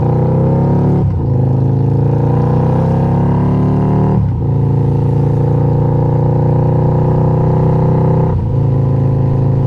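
A Harley-Davidson Night Rod motorcycle engine roars loudly and close, revving in repeated surges with brief drops between, running continuously throughout.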